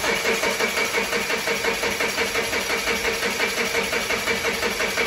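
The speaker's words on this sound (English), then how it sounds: "But start that car there, Rory." A Mazda 6 engine with a no-start fault, code P0337, running loud and close, with a steady pulsing idle throughout, no voices.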